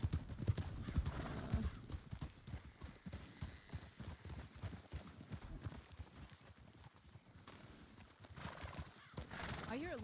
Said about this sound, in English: I hear a lot of horses to our right.